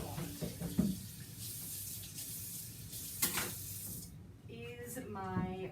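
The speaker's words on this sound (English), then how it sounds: "Let me go rinse my stuff off so that I can use it again." A kitchen tap runs steadily while cooking utensils are rinsed, with clinks and splashes near the start and a voice speaking over the water toward the end.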